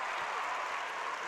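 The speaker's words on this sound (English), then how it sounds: "Crowd really getting into it. They're all on their feet on the Norris section." Spectators at a Class B Nebraska boys' basketball championship, Norris against Skutt Catholic, stand, cheer and applaud in the stands, a steady faint roar of clapping heard from a distance.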